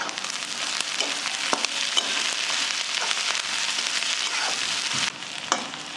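Onion frying in oil in a pan until reddish, a steady dense sizzle throughout with occasional stirring scrapes, briefly dipping near the end before continuing.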